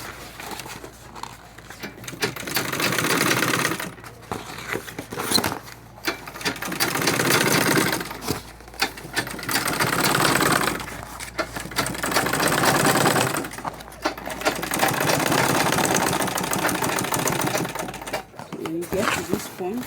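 A sewing machine stitches around a bag body in repeated whirring bursts separated by short pauses, with a voice talking over much of the stitching.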